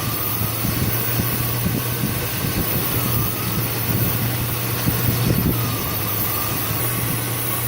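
A car engine with 195,000 miles on it idles steadily during a Seafoam cleaning treatment, giving a constant low hum and a grainy, rumbling drone that holds level the whole time with no talk.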